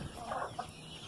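Baby meat chicks cluck softly and briefly close by in a breeding pen, a couple of short clucks over a faint background hum.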